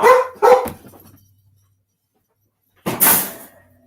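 A dog barks indoors, giving two sharp barks close together, then a quiet pause and one more loud bark, each clipped and near.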